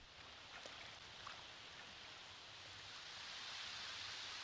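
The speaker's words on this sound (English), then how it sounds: "Now it's a torrential downpour?" Heavy, torrential rain from a downpour in The Sims 4 video game, heard as a steady, even hiss of falling water with no breaks, fairly soft throughout.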